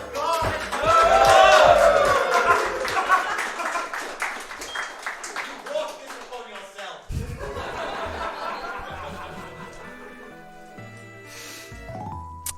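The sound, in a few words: audience applause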